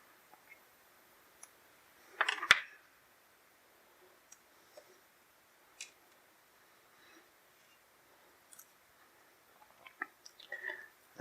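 Cutting through plastic packaging on a G.I. Joe Pursuit of Cobra Snake Eyes action figure: a few short, close snips and clicks, with one louder crunch of plastic and scattered faint rustles in a quiet room.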